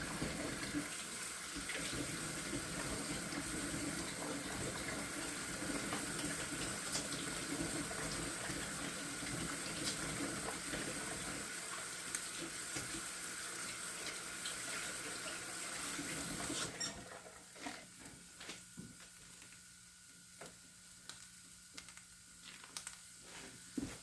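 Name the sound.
cold water running from a kitchen faucet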